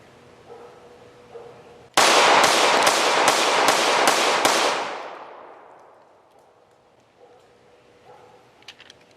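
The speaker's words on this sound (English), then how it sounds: "But man, it's a good shooting gun." A rapid string of about seven loud, close gunshots from a Shadow Systems CR920P 9mm micro pistol fired outdoors, each sharp crack echoing and the reverberation fading slowly after the last shot.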